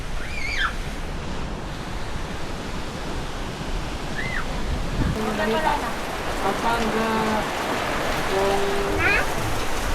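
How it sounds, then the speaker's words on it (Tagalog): Rain falls steadily with a continuous wash of hiss and patter, while people talk in the background and a few brief chirpy tones cut through. "Na naman ang ulan, oh."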